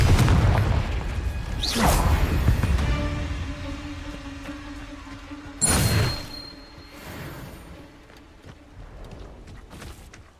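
Confringo blasting spell cast in a Harry Potter video game: two loud booming bursts with whooshing tails, one near the start and another midway, each fading into a lingering hum.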